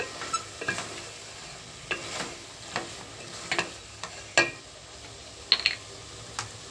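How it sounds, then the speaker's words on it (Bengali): Katla fish curry with bottle gourd being sautéed with roasted cumin and chili powder, a soft background sizzle under regular spoon scrapes and sharp clinks against the pot, close and without speech. "জিরে মরিচের গুঁড়োটা দিয়ে এক দু মিনিট মতো একটু কষিয়ে নেব"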